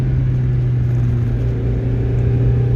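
A 1990 Mazda Miata cruises fast on a winding road, its engine a steady, loud droning hum with a constant low rumble and no tire noise, heard from inside the cabin.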